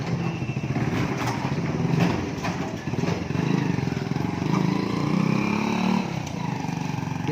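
A motorbike engine runs close by, a loud steady putter with slight revs and throttle changes throughout, the bike towing a two-wheeled trolley.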